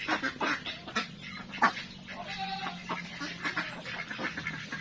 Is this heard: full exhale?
no